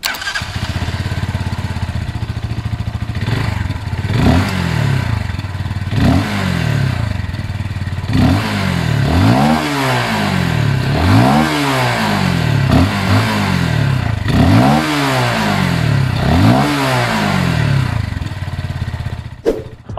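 A QJ Motor SRV 200 motorcycle ridden through a series of throttle blips and gear changes, its engine rising and falling in repeated rhythmic revs, loud and close with no voices.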